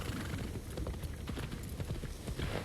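Horse hooves clip-clopping in the Assassin's Creed Shadows video game, a fast, steady run of close hoofbeats as the horse trots through town, heard alone.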